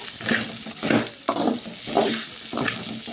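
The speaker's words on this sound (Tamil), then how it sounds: "தக்காளி நல்லா கழுவி கட் பண்ணி போட்டேன் லைட்டாக வறுத்தோன்னே" Chopped, washed tomatoes fry lightly in a pan, giving a steady close sizzle with soft stirring scrapes coming in repeated bursts, with no talk.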